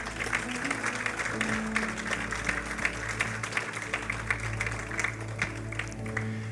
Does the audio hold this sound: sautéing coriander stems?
no